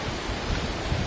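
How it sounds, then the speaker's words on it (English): Wind rushing through leaves in a forest along the Appalachian Trail, a dense, steady roar with broad rustling and some buffeting, loud and continuous over a short stretch with no voices. "Just listen to the wind rip through those leaves."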